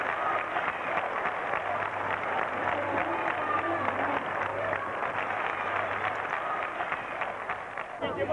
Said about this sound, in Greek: χειροκροτήματα για τον Έλληνα παίχτη από τον κόσμο και την ομάδα του